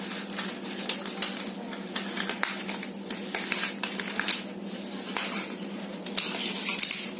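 Scissors cut the neckline of a paper blouse pattern for a Bombay-cut blouse, making close, repeated crisp snips and paper rustles in uneven bursts, with no talking.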